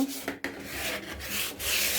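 Sandpaper rubbing across the surface of an old wooden dresser in short, repeated scratchy strokes, close up and alone.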